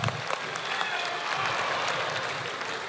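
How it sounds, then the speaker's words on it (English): Audience applause at a Pacific University lū‘au and hō‘ike after performers danced the Macarena, a steady wash of clapping hands and crowd noise at moderate volume, continuous and fairly even throughout. "Can we give a round of applause for them,"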